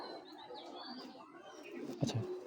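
Young male racing pigeons cooing softly under a steady background hum, with a slightly louder coo near the end.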